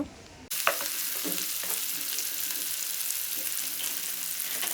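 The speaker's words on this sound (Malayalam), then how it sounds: "നമുക്ക് സവാള ഇട്ട് കൊടുക്കുക അത് നന്നായി വഴറ്റിയെടുക്കുക" Onions hit hot oil with ginger-garlic paste for a Kerala-style chicken curry, setting off a sudden loud sizzle that holds as a steady close hiss with a few stirring scrapes.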